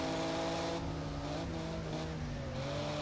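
A Nissan Skyline race car engine pulls away on the Donington Park circuit, a loud sustained harmonic drone with gear shifts dipping and rising over about three seconds, with no talk.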